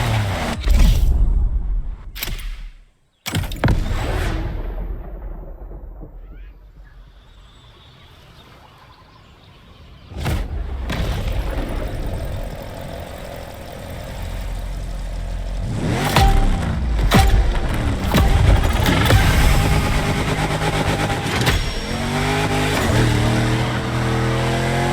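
Car engine in The Crew Motorfest on a track drifting event, revving hard in bursts with sharp cuts and a quiet dip mid-way, then rising again into sustained, wavering high revs and tire-like roar.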